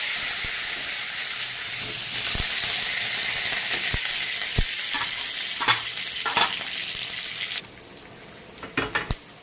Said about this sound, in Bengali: এখন আমি মাংসটা এই আলুটাকে ভেজে নেব